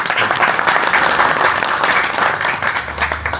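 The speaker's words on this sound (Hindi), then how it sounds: "बजाओ एक बार ताली भाई।" A crowd claps steadily and loudly for several seconds at a district council candidate's campaign appeal for Ward 8 in Haryana, India, the applause rising and holding before tapering slightly.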